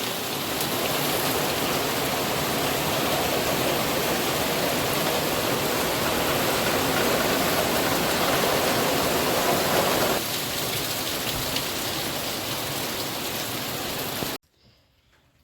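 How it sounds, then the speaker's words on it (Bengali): Continuous heavy rain pours steadily outdoors in the Sundarbans, a dense, even roar that holds for about fourteen seconds before cutting off abruptly, with no voices. "বাইরে বেরোনোর মতো না টানা বৃষ্টি চলছে"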